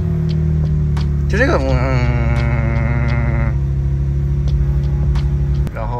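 A BMW M4 G82 engine starts with a rising electronic-sounding synthetic note that settles into a steady idle hum, heard up close while someone talks over it.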